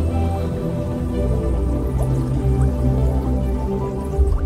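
Water drips steadily as recycled water is poured or released, over a low constant rumble and faint hum, with no clear separate drops standing out.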